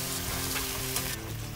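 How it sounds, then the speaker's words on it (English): Crayfish tails frying in bacon fat in a pan, a loud, dense, steady sizzle throughout with faint stirring. "we're going to fry this crayfish in the fat of the bacon"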